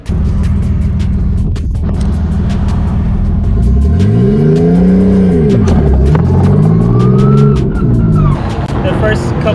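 A right-hand drive rotary-powered car rumbles as it moves off, the engine revving up and down in loud sweeping pitches over steady road noise, with clicks and scattered sounds around it.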